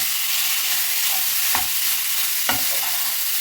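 Pork belly frying in its own fat in a pan with no oil added, giving a steady, loud sizzling hiss broken by two distinct scrapes of a utensil against the pan.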